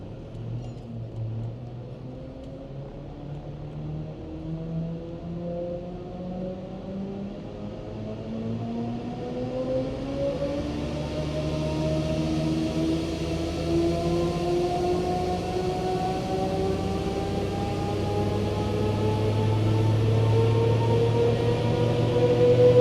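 Land Rover Discovery Td5 diesel engine with a skimmed cylinder head running on a dyno, its rising harmonic drone climbing steadily in pitch as the turbo spools and the note grows louder.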